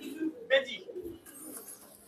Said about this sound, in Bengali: অনেক কবুতর আছে এখানে